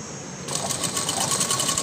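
A sewing machine runs fine stitches along the lining of a floral frock, starting after a brief quiet lead-in and then humming steadily and close.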